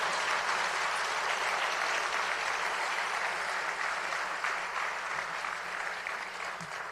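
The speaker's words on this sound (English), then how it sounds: "Y'all are supposed to clap for your families." An audience at a fire department badge pinning ceremony applauds steadily and fairly loudly, the clapping holding evenly before easing slightly at the end.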